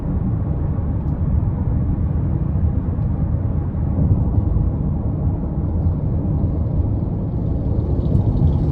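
A 2026 Nissan Rogue Dark Armor AWD pulls hard out of a corner, its engine a steady, loud broadband drone with road rumble heard from inside the cabin. The sound holds level throughout with no talking.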